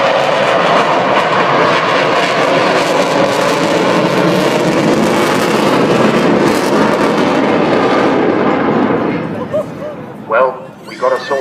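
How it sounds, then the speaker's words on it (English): Avro Vulcan bomber flying past at the Bournemouth Air Show, its jet engines producing a loud, roaring howl that holds steady for several seconds then drops away, leaving crowd noise and voices. "well, we got a sort of howl there."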